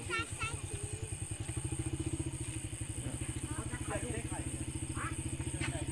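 A motorcycle engine running with a steady rapid putter close by throughout, while people talk and voices rise over it at times.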